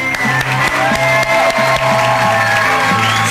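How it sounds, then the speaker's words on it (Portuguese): Applause for children on a TV show: a loud, continuous clapping crowd with some cheering, heard over music playing throughout. "Uma salva de palmas pra molecadinha."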